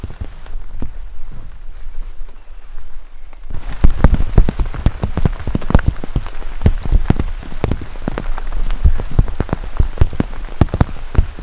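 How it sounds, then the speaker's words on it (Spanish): Heavy downpour on the uphill trail of Cerro Picacho, Panama, near the San Carlos lagoon: rain starts softer, then turns into a loud, dense drumming of drops on surfaces, steady and close with no talk. "Subiendo con una lluvia ya brutal."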